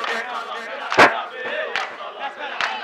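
A wedding crowd calls out a loud, unified chanted response, one strong burst near the middle rising over a steady hum of many voices, with smaller shouts scattered after it.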